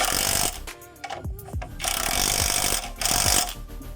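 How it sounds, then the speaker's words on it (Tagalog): Impact wrench working on a Rusi Royal motorcycle during disc brake repair, giving two loud bursts of rapid mechanical hammering separated by a short pause with clanks, close to the mic. "ako kasi gumagamit ako ng impact kasi mas mabilis ito."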